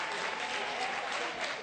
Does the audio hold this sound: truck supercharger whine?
no